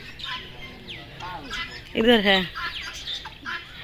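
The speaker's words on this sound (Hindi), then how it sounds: "यहाँ तो सारी फाख्ता हैं" Doves and pigeons calling in an enclosure at a small mini zoo, a mix of short coos and squawks, one louder call standing out midway, with people talking nearby throughout.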